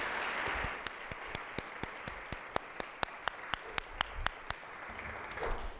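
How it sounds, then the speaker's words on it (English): A room of people applauds panelists at a Columbus Metropolitan Club forum on women's health, a steady wash of clapping with sharp individual claps popping through, continuing for several seconds before tapering off. "Let's give them all a huge round of applause"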